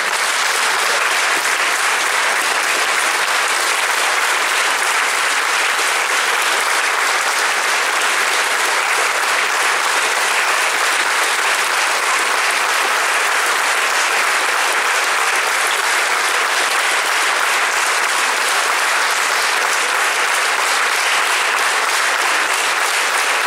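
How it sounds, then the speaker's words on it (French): Dense, loud audience applause fills a choir concert hall, steady sustained clapping from a large crowd with no pauses for the whole stretch. "Merci pour vos applaudissements."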